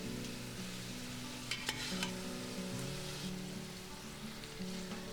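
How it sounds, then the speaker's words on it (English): Partially cooked meat chunks sautéing with onions in a pan for a Turkish iftar meal, a soft continuous frying hiss with a few brief utensil scrapes in the middle, fairly quiet, with no talking. "I'm going to add the partially cooked meat chunks to onions"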